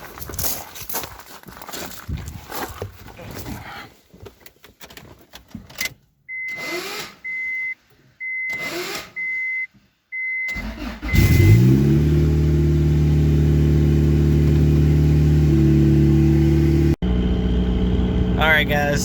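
A turbocharged Honda Accord cranked on a weak battery: bursts of engine noise and a repeated warning chime, then the engine catches and settles into a loud, steady idle with a rise in revs near the end, talk heard early.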